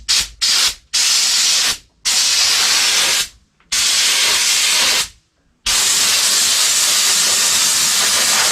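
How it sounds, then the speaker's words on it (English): An air compressor nozzle blows loud hissing bursts of air across a truck roof, several short blasts followed by longer sustained ones, separated by brief silent pauses. "Gonna blow this off with the air compressor one more time, just in case there's any lint from the rag or any leftover moisture in these cracks."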